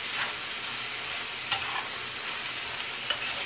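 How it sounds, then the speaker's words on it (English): Spaghetti squash dinner ingredients brown in a hot pan with a steady bright sizzle, broken by a couple of brief spatula scrapes. "We're going to get this nice and brown."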